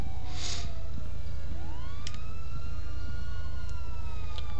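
Police car siren in GTA V FiveM roleplay, a loud continuous wailing siren rising and falling over heavy engine rumble, with short electronic chirps layered on top.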